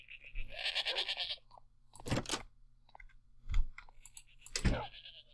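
Minecraft sheep on a sheep farm give several short bleats, separated by pauses, alongside bursts of other game sounds.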